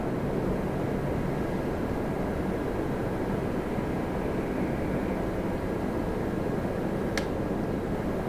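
Air Canada Rouge airliner arriving at Toronto Pearson, heard as a steady distant broadband jet roar that stays even throughout, with no voices.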